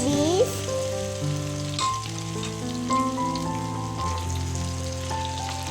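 Tempeh frying in hot oil: a continuous close sizzle with scattered pops and crackles, like rain on a surface, no voices.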